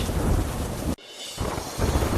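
Heavy monsoon rain pours down in Navsari district, Gujarat, with loud rumbling thunder. A dense, steady downpour hiss is briefly interrupted by a sudden cut, then resumes strongly. No voices are heard.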